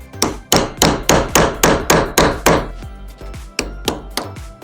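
A hammer and punch drive the sight out of the dovetail on a Smith & Wesson M&P pistol, giving about a dozen sharp, loud metallic taps in a steady rhythm, with a short pause before the last few blows.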